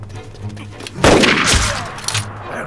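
A sniper rifle shot in a war film set against Japanese troops cracks once loudly mid-scene, followed by a short rumbling tail over low background score.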